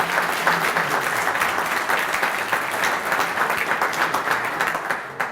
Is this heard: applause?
yes